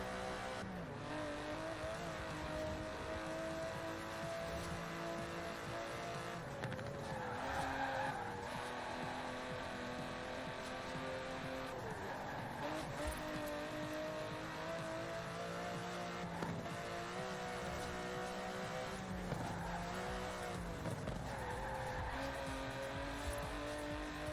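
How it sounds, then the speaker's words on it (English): Aston Martin DB11 driving in Forza Horizon 4, a sustained engine note rising and falling through gear changes with intermittent tire skids, steady and moderately loud throughout. "It's an Aston Martin."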